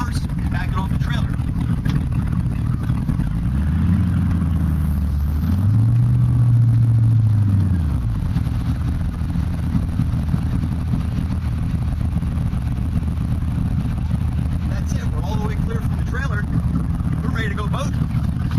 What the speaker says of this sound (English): Now I can put it in gear in reverse and back it off the trailer.